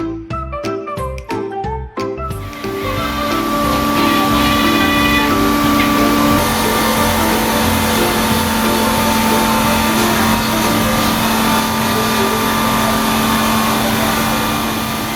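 A BMW X5 starts up after new tires and a wheel alignment, with a few sharp clanks before the engine settles into a steady close hum that runs on under a faint tonal whine.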